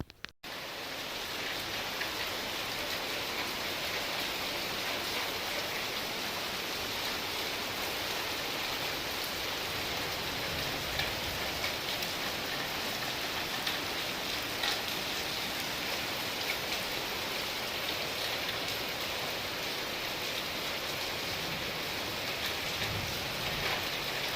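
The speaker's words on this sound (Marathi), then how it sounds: "पाऊस आला आणि सर्व ओलचिंब करून टाकलं" Steady rain pours down, a dense, even hiss that holds unchanged for the whole stretch, with no voices or other sounds.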